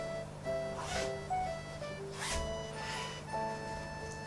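A zipper on a coarse-meshed aquarium filter media net bag is opened and closed in a few quick, close rasping strokes, with faint tonal background hum underneath.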